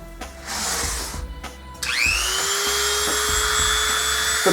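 A Dremel rotary tool fitted with a cutting bit spins up sharply after some handling clatter, then holds a close, steady, high-pitched whine.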